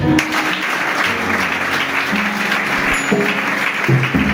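A church congregation applauding: dense, steady clapping from many hands, loud and close, with a few voices and musical notes faintly beneath.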